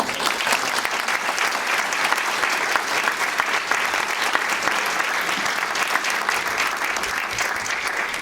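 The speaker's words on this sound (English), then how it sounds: "So let's give a round of applause for our very..." Sustained audience applause at an evening tech meetup panel discussion on selling to the enterprise, dense steady clapping from a crowd filling the whole stretch with no one speaking over it.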